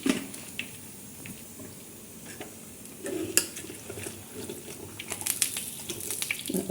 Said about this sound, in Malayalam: കുറച്ച് വെളിച്ചെണ്ണ ഒഴിക്കുന്നുണ്ട് പൊരിക്കാൻ വേണ്ടിയിട്ട്.